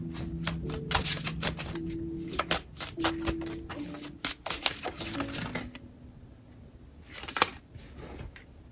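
A deck of cards is shuffled several times in quick riffling bursts, close and fairly loud, with a short pause before a final brief riffle near the end.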